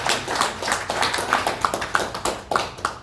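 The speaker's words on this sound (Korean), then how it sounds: "박수 한번 쳐주십시오" Korean church congregation clapping during a Sunday service, a modest scatter of hands giving uneven, distinct claps that rise and fall in small bursts rather than a dense roar.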